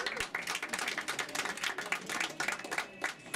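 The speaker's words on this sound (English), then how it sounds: "Everybody give him a round of applause." Scattered applause from a small audience at a book signing, quick uneven claps close by for a few seconds, fairly quiet and without voices.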